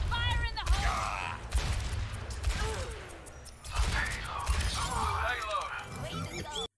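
Ashe's dynamite explodes in the Overwatch video game amid busy game effects: loud shattering blasts and crackling gunfire in repeated bursts, with a character voice over the top.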